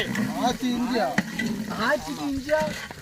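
Green chillies and ginger garlic paste sizzle and crackle steadily in a hot pan as they are stirred, while voices talk loudly over the frying.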